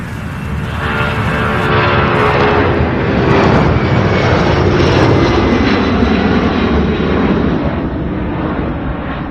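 A UPS cargo airplane takes off at Louisville International Airport, its loud jet roar swelling to a peak and holding as a continuous broadband rumble and whine, heard from nearby with no talking.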